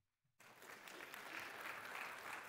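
Church congregation applauding as a guest speaker is welcomed to the stage, a sudden onset of many hands clapping that swells and holds steady, moderately distant.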